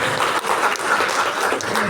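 An audience at a regional working meeting applauds, a dense wash of clapping at a steady level with no clear pauses.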